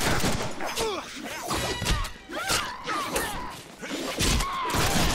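Gunfire in the Deadpool video game, played in its ultra-violence mode, as a dense busy mix of shots, crashes and impacts with spoken lines in between.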